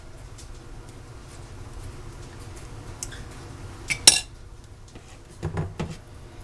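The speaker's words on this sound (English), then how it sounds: "Get my spatula." A metal spatula is picked up amid clinking utensils and pans while making milk chocolate candy suckers, with a low steady background hum, a sharp clank near the middle and a short cluster of softer knocks after it.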